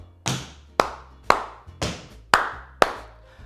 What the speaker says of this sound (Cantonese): 即係揼地加2下拍手